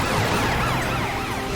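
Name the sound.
siren of cartoon fire truck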